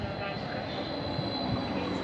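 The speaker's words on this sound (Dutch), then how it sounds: "daar komt de RE13 naar Venlo aan." An RE13 regional train to Venlo pulls into a station with a steady rumble and a high, sustained wheel squeal, with quiet voices faintly audible underneath.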